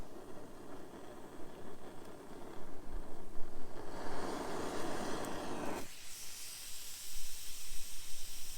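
Water coming to a boil in a cabin in the woods, steam hissing: a steady broadband hiss that swells louder in the middle, then drops back and continues softer, with no talk.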